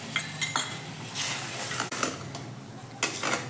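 Milk stirred in a pan while making a besan mohanthal sweet: repeated metal spoon scrapes and clinks against the pan over a soft bubbling hiss, close and fairly loud.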